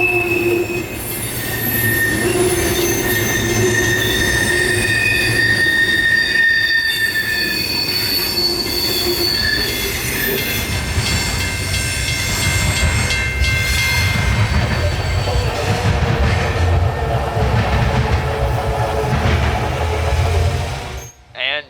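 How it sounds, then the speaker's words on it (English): A northbound freight train carrying phosphate or ethanol rolls steadily past close by in Central Florida, wheels shrieking in high, sustained squeals over a constant heavy rumble of rail cars. "we were able to catch both a northbound phosphate and ethanol train today"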